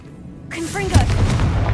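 The Confringo fire spell in Hogwarts Legacy goes off as a sudden booming blast with whooshing magical sweeps and a rumbling burst that lingers, with a voice calling out just before.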